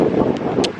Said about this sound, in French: j'espère qu'on m'entend bien parce qu'il y a du vent